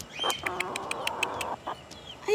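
Chicken clucking in a quick string of short, sharp calls close by, a brief burst of several clucks followed by a couple of scattered ones.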